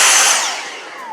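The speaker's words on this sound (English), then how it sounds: "This vacuum is a beast" Dyson V6 cordless handheld vacuum whining at high pitch as it powers down, the motor tone sliding downward and fading over about a second, close and loud with no voices.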